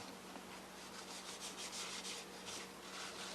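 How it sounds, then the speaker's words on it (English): Paste wax is rubbed with a cloth over a wooden pen blank, making a soft, steady, continuous rubbing hiss that stays quiet and even throughout. "Rub it all over the blank."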